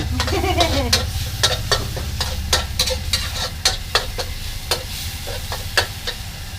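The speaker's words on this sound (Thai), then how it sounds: "ใส่พริกกระเทียมลงไปก่อนเนาะ" Chili and garlic are stir-fried in a pan for a Thai crispy pork holy basil dish from Phop Phra, with brisk rhythmic spatula scrapes, about a dozen strokes, over a loud close sizzle.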